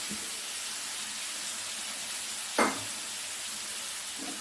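Elephant yam with water added sizzles steadily in a pan, a constant close hiss with one sharp utensil clack midway and a faint scrape near the end.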